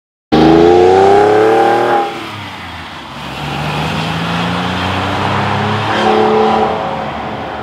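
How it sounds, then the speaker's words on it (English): Porsche 996 Carrera flat-six engine and exhaust on the road, a loud close rev that drops off, then a deep bassy drone building again as the car pulls through the gears, with tire and wind noise. "On the road, this Carrera sounds wonderful, with a unique sound full of bass."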